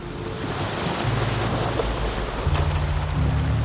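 Sea waves wash and rush steadily at sea, mixed with wind buffeting the microphone and a low droning hum that steps up in pitch, without any voices.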